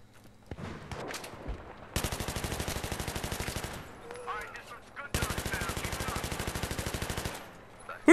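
Two long bursts of M249 machine gun hip fire in a video game, each a rapid, evenly spaced stream of loud shots lasting a couple of seconds, separated by a pause with brief talk and game sounds.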